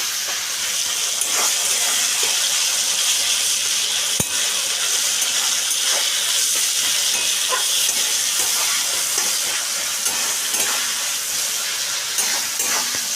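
Tomatoes and ginger, with a pinch of salt, sizzle in a pan, giving a steady, close hiss that runs unbroken throughout, with small crackles and pops scattered across it.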